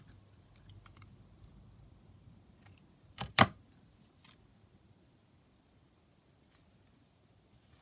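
Scissors cutting down envelope paper in a quiet workshop: one sharp, close snipping burst stands out, followed by a lighter snip and faint rustles against near silence.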